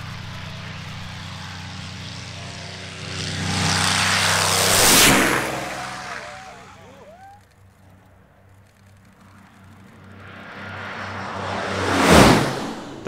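Propeller warbird from the Flying Bulls fleet flying at Antidotum Airshow Leszno, its engine drone swelling to a loud pass and fading, then a second, sharper close flyby roaring in near the end.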